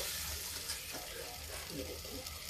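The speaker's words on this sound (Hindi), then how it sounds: "अब इसमें हम थोड़ा सा ग्रेवी के अनुसार पानी डाल दीजिए" Water splashes into masala frying in a pan for a soya chunk and rice flour gravy, giving a steady close sizzle and bubbling hiss that runs the whole time without voices.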